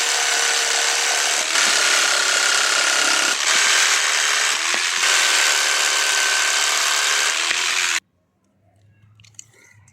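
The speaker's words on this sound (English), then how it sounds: "I'm having to do it the hard way, which is with my jigsaw" A jigsaw cuts through a workbench board, a loud, steady buzzing rasp running for about eight seconds with brief dips, then stopping abruptly to near silence with faint handling noises.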